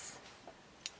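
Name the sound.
scissors cutting a notch in fabric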